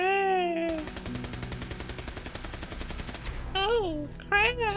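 Fallout video game gunfire: a steady, rapid automatic rattle lasting a few seconds, framed by warbling tonal sounds before and after.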